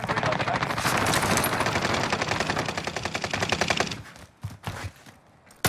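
Rapid, sustained automatic gunfire from an MP40 in the Call of Duty Vanguard Warzone video game, a long close burst that cuts off into a few scattered shots.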